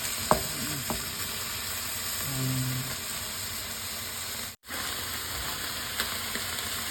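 Ground pork sautéing in a pan and rendering its fat, a continuous close sizzle broken by a few stirring knocks and a brief dropout midway.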